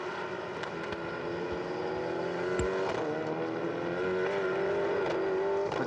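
An endurance prototype race car driving at Paul Ricard circuit, its engine droning steadily and rising in pitch, heard from a distance over open track ambience without talk.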